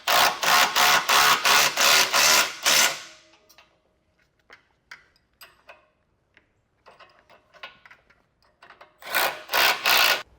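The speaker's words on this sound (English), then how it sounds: "you can grab a 9/16 socket and wrench" Rapid ratcheting clicks from a 9/16 socket wrench snugging Blue Ox base plate bolts on a 2024 Buick Envista, in two close bursts of fast regular strokes separated by a stretch of faint handling noises.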